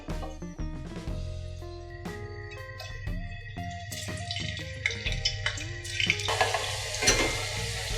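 Potato slices fry briefly in a pan, a sizzle that grows louder and hissier toward the end, under steady tonal background sounds.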